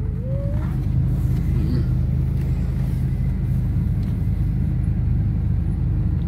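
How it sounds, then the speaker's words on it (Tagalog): Steady road traffic rumbles around a car driving on a Cebu road, a constant low engine and tyre drone heard from inside the cabin with no talking. "Traffic."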